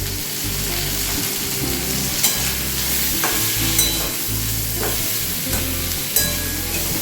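Potato and pumpkin fry in a pan with turmeric powder, a continuous close sizzle broken by several sharp scrapes and clicks of a spoon stirring against the pan, with no voices.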